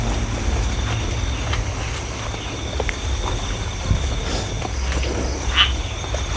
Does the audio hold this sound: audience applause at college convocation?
no